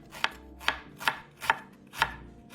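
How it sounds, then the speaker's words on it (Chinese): A knife finely chopping ginger on a cutting board: five crisp, evenly spaced chops, close and clear against a quiet background. "生姜20克，切细备用。"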